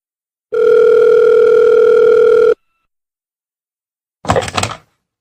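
A steady telephone dial tone sounds for about two seconds and cuts off, followed after a pause by a brief clunk or rattle.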